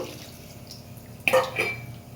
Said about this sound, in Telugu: ఆ వాటర్ అనేవి ఇప్పుడు నేను దీంట్లో పోస్తున్నాను